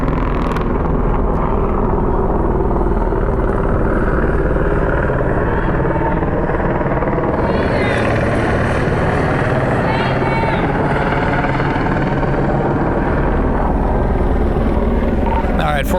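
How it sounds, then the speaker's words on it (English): Police helicopter flying overhead, a loud continuous rotor thump and engine roar filling the whole stretch, with excited voices talking over it. "Here comes the helicopter."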